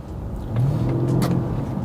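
A Mercedes CL63 V8 idles and then swells into a deeper, louder burble partway through, a steady low engine note from close by with no one speaking.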